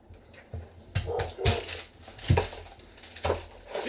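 A dog barks several times in short, irregular bursts, fairly close, with a few clattering knocks in between.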